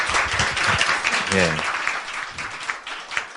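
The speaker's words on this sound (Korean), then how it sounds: "큰 박수 부탁드리도록 하겠습니다" Audience applause at a talk event with an interpreter, a crowd clapping steadily under a brief spoken acknowledgement, fairly close and moderately loud.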